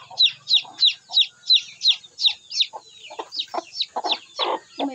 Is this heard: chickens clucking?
yes